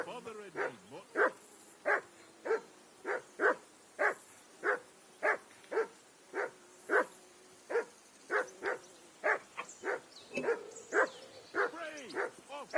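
A dog in the medieval game Kingdom Come Deliverance II barks in a steady run of sharp, evenly spaced yelps with a few whimpers, close by, while a voice talks over it.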